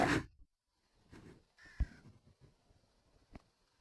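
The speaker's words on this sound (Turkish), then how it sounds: "karga bile güldü ki" A crow caws several times in short separate calls at moderate distance, following a brief loud sound at the start, with quiet gaps between the calls.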